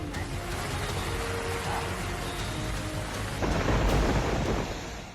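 Heavy rain pours down steadily with rumbling thunder during Cyclone Fengal in Krishnagiri district, Tamil Nadu, a dense, loud, continuous wash that swells louder near the end, with faint voices in the background.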